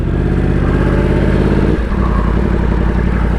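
A Yamaha R1M motorcycle engine runs loud and close, a steady throbbing drone that shifts pitch midway as the bike pulls out onto the road.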